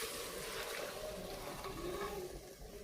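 Hot water being poured into a pot of country chicken cooking outdoors, a steady continuous pouring and splashing sound heard close up at low level throughout.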